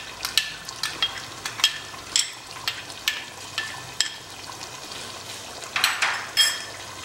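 Garlic-ginger paste goes into a hot frying pan for a mutton nihari curry and is stirred, giving a steady sizzle broken by repeated sharp scrapes of the spoon against the pan, close and with no talking.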